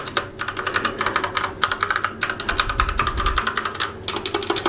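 Rapid clicking keystrokes on a 1STPLAYER Firerose MK3 mechanical keyboard with Outemu Red switches, a dense close run of presses that pauses briefly between bursts, with no talking.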